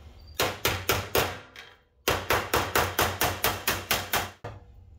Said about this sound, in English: So it's all smoothed out now on both sides, hammered flat.